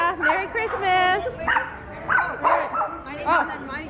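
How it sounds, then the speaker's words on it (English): Many dogs lined up outside at a holiday Santa event bark and yip in overlapping bursts, fairly close, with people talking over and around them. "Lots of dogs barking, lots of dogs lined up."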